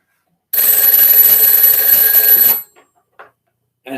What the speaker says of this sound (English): Now this phone should ring